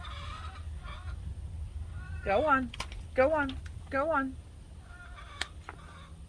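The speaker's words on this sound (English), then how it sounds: "loud chickens." A few loud, drawn-out chicken squawks and clucks close by, mixed with a person speaking briefly in between.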